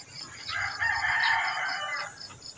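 A rooster crows once, loud and close, in a single drawn-out call over faint chicken clucking, with no talk.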